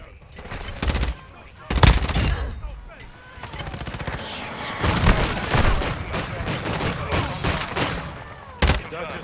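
Rapid bursts of automatic gunfire and sharp single shots crack through a Call of Duty firefight, loud and close, with heavy impacts near the start and end and voices talking over the action.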